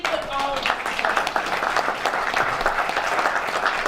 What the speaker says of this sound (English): John White deserves some of this applause for helping organize this stuff